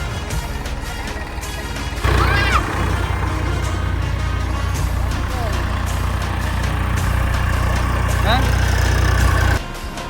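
Loud, steady engine drone of a tractor running close by, growing heavier after the first couple of seconds, with scattered clanks and faint squeals.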